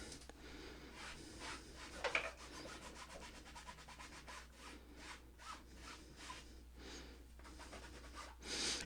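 A wet rag rubs steadily back and forth over a dried stain on a bag, with Pink Stuff cleaning paste, giving a continuous scrubbing texture with brief scratchy bursts, fairly close and without speech.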